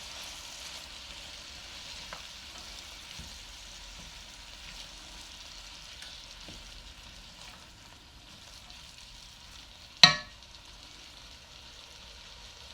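Sliced cabbage and green chillies, cooked without spices, being stirred in a pan; a faint, steady sizzle runs throughout, broken by one sharp clink of a utensil near the end.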